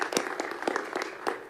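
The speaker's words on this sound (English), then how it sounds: "I think he deserves a round of applause for making that happen." An audience at an energy and infrastructure assembly retreat applauds, a brief burst of scattered hand claps, moderately close and fading within a second and a half.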